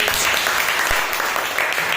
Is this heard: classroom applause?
yes